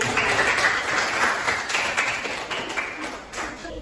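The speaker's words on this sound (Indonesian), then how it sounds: "Oke, tepuk tangan." Students clapping together in a classroom guidance session, a steady dense burst of applause lasting throughout, close and fairly loud.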